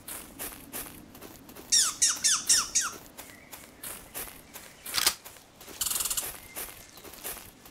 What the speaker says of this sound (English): These fucking vengeful squirrels sound like they're Roombas coming at you